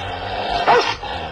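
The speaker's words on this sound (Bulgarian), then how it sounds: "Млъкни най-после, проклети песо!" A dog barks once within a Bulgarian children's audio story. The single sharp bark stands out close and loud over a continuous backing of music and ambience.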